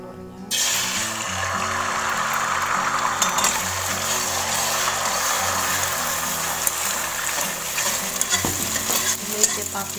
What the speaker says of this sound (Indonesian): Pastikan minyaknya sudah panas ya teman-teman, baru kita tuang telurnya